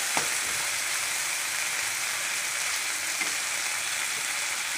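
Bitter gourd slices frying in a pan on a home stove, a steady, fairly faint hiss of oil throughout with a couple of soft knocks, no voices.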